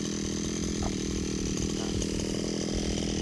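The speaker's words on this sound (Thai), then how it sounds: "เสียงดังจังหน่อยครับเครื่องตัดหญ้านะครับ" Gasoline grass trimmer running steadily at high speed, loud and close, with a constant buzzing two-stroke whine that barely changes over the few seconds and no talking.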